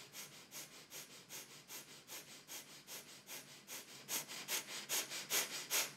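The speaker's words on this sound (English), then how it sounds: "Breath of fire through the nose." Breath of fire during a Kundalini breathing exercise: rapid, rhythmic nasal breaths, roughly three per second, close and steady, growing louder toward the end with no talking.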